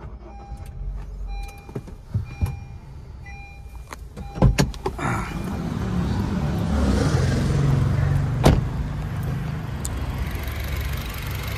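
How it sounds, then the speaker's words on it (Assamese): Near a Honda City VX petrol i-VTEC engine, several sharp clicks and switch sounds come from the cabin. Then the push-button start brings the engine to life, settling into a steady, smooth idle hum heard up close. "মই এবাৰ ষ্টাৰ্ট কৰি শুনাই দিওঁ আপোনালোকক ইঞ্জিনৰ চাউণ্ডটো"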